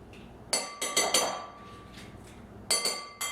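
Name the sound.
scooping avocado out with a spoon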